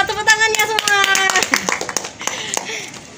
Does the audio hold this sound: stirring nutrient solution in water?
no